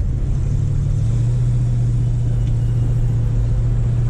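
A 1968 Ford Mustang engine drones steadily at close range through a drift ride, a deep, constant low rumble with no clear revving peaks and no talk over it.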